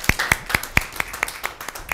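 A small group claps in a sales training session, nine separate, evenly spaced claps that sound close and sharp in a quiet room.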